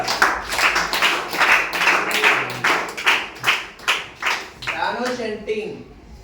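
An audience clapping during a talk on the Ramayana, rhythmic rounds of claps rising and falling, close and clear, ending as a voice begins speaking.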